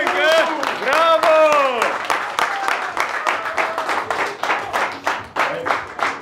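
An audience applauds the winner of a kebab-eating contest, with loud, close clapping that thins into scattered claps, while someone shouts and speaks over the start.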